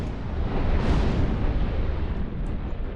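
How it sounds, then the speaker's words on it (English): Miracle explosions in the 2001 god game Black & White, heard as a continuous loud roaring blast that swells around the one-second mark and rumbles on densely for the whole stretch. "Did you all just die because of the miracle explosions?"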